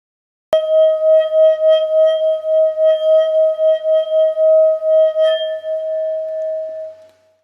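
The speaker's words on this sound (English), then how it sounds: "Tibetan singing bowl." Tibetan singing bowl struck once and left to ring, a clear sustained metallic tone with steady overtones and a gentle pulsing waver. It decays slowly over several seconds, alone and close.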